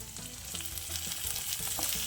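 Shallots and garlic cloves fry in hot oil in a pan for a Tamil brinjal and mochai bean curry, giving a close, continuous sizzle with small crackles and faint stirring scrapes.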